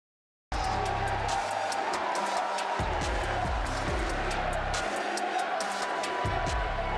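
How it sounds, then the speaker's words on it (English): Arena crowd at an esports championship final for the Jade Dragons and Oni Warriors, a dense continuous roar of cheering and noise that stays loud and steady throughout. "You hear that crowd, Gorm."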